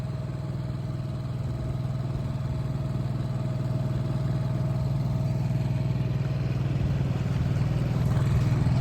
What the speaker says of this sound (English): The 4-stroke motor is holding up pretty good.